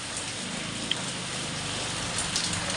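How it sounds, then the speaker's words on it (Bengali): Heavy rain from Cyclone Remal pours down steadily near a flooded courtyard, a dense constant hiss with a few sharper drips. "আজকে মনে হয় না আর সারাদিন বৃষ্টি থামবে"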